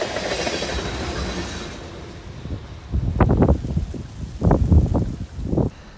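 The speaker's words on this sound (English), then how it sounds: "the train always comes by during the hunt at some point in the morning" A train passes along railroad tracks near a morning duck-hunting spot, a broad rumbling wash giving way to a series of sharp, rhythmic clacks of wheels over rail joints, loud and close.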